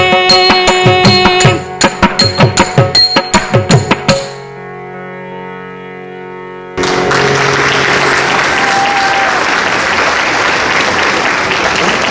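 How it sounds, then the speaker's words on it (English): Audience applause at an Indian Medical Association annual gala after an Indian classical vocal performance, as closing sung notes and sharp rhythmic beats give way to a brief quiet pause, then a loud sustained burst of clapping. "What a great performance. Thank you so much. Thank you again. Let's have a big round of applause."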